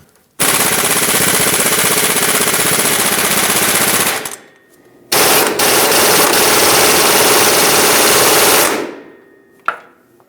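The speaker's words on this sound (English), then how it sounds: "first I'm just going to put my impact on this and see if that does the trick" An impact wrench hammers at the crankshaft pulley bolt of a 2006–2011 Honda Civic in two long, loud, continuous rattling bursts, close up, separated by a short pause, followed by a brief final blip.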